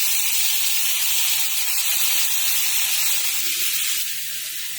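Asafoetida and black cumin sizzling in hot oil as a tempering, a loud, steady, close hiss that eases slightly near the end; no speech.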